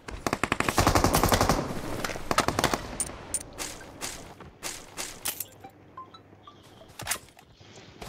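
Bursts of automatic gunfire from the battle royale game BGMI, loud and dense for the first three seconds, then scattered shorter volleys and single shots fading further off.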